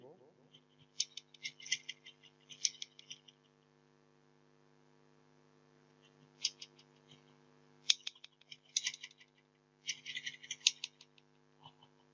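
Bangla text being typed with Bijoy on a computer keyboard, with clustered bursts of close, light key clicks separated by pauses and a steady electrical hum running underneath throughout.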